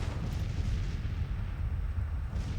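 Artillery fire in the Civil War strategy game Grand Tactician, heard as a dense rolling rumble of distant cannon booms that merge into a continuous low roar, fairly loud, with no voices.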